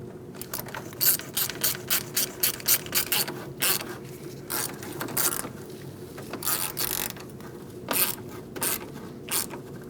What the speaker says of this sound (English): We're going to tighten up our clamp.